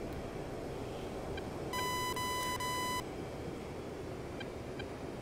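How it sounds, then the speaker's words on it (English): A radar warning receiver in a DCS jet cockpit sounds a single sharp, bright electronic tone lasting about a second, with faint ticks before and after over quiet cockpit background. "That beeping sound is a new target appearing on the RWR, so a new radar source painting my plane."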